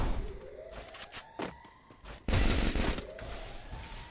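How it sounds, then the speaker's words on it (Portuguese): Gunfire rings out in a Free Fire mobile battle game, with several sharp single shots followed by a dense burst of rapid fire over a faint rising whoosh. "Meu Deus, você dá um tiro, meu parceiro."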